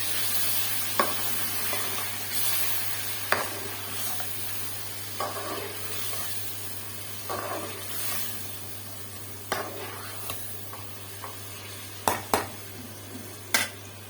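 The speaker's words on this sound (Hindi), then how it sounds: "इसमें इसको अच्छे से भून लेंगे" A masala of ginger, garlic, green chili and tomato fries in a pot for Hyderabadi pulao, with a low continuous sizzle under occasional sharp scrapes and clinks of a stirring spoon against metal.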